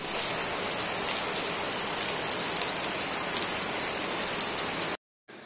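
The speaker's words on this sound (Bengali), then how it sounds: "তো তোমরা দেখতেই পাচ্ছ কত জোরে বৃষ্টি হচ্ছে।" Heavy rain pouring down, a loud, dense, even hiss of drops hitting surfaces close by for about five seconds before cutting off abruptly.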